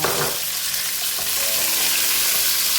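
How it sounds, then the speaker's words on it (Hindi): Capsicum and green chillies frying in a pan, a steady loud sizzle with crackling throughout, close up and without talk. "ये देखिए हल्की सी शिमला मिर्च फ्राई होनी शुरू हो गई है।"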